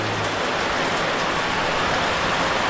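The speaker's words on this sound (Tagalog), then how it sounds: "Lakas ng ulan." Heavy rain pours down steadily in the dark early morning, a dense continuous hiss with no breaks, loud and close.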